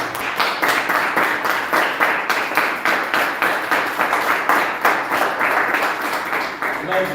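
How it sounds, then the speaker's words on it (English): Steady applause from an audience, a continuous dense wash of many hands clapping at a fairly loud, even level with faint voices mixed in. "let's give the global ambassador a big round of applause"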